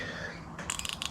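Penn Authority 7500 spinning reel, CNC-machined, handled at close range: a smooth soft whir from turning, then a rapid run of crisp metallic drag clicks in a quick ratcheting rhythm.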